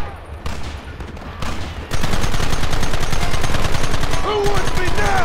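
Heavy gunfire erupts in the Red Dead Redemption video game: after a few scattered shots, a dense, loud barrage of rapid rifle and machine-gun fire runs continuously to the end, with faint voices underneath.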